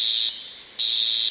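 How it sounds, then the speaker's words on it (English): A fire alarm that someone has pulled sounds in a building, a piercing electronic tone that blares, dips briefly, then comes back just as loud, close and alone. "I pulled the fire alarm."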